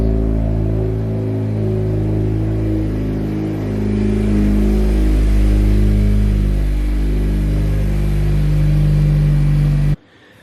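A 10th-generation Honda Civic engine, fitted with a performance oil cooler, runs loud and close, its idle rumble rising and falling through several revs before cutting off abruptly near the end.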